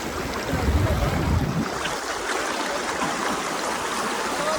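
River water flowing at the Vishweshwar river near a Mahadev temple in Banaskantha district, a loud continuous rushing wash, with a heavier low rumble during the first second and a half before settling into a steady roar.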